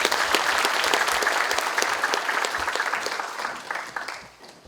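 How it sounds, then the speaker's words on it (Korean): A hall full of attendees at Chung-Ang University's 107th founding anniversary ceremony gives a big round of applause for university president Park Sang-gyu, loud and dense at first, then thinning and fading toward the end. "큰 박수 부탁드립니다."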